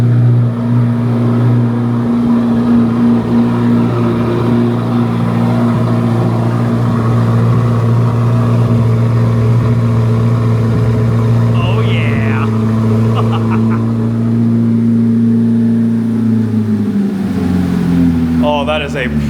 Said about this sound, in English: Properly loud cold start.